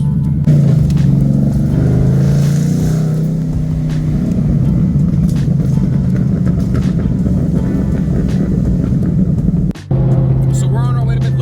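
A brand new 2024 Aprilia Tuono V4 motorcycle rides along a road, its engine droning and rumbling steadily with a brief dip near the end, while people talk over it.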